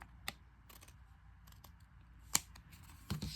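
Scissors trimming the edge of a paper craft pocket made for a journal or album, giving a few faint, crisp snips spaced apart in a quiet room.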